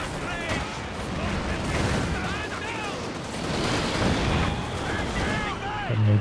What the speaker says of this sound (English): the heavy mortar's getting quite a few good shots in